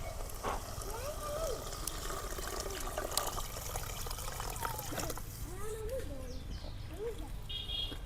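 Water pours and trickles faintly into a pot of rasiya bhat being cooked in a village kitchen, a soft continuous stream with bird chirps in the background.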